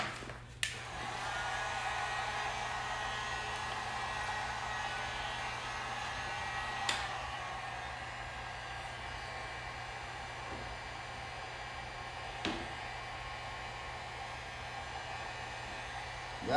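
A heat gun blows a steady, airy roar while warming a black and red vinyl wrap stripe for removal, continuous and close, with a couple of faint clicks and taps over the constant hiss.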